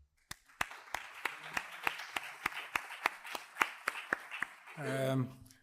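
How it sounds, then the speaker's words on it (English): Clapping at a university conference session in Vigo after a professor's talk, heard as a steady run of sharp, separate claps from what sounds like only a few people, close by, ending as someone begins to speak. "give him an applause and thanks for your talk"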